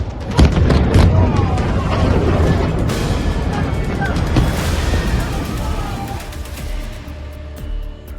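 A bomb explosion near Tehran, Iran: a deep, rumbling blast with heavy low-end roar and crackling debris, sustained for several seconds before tapering into a lingering rumble.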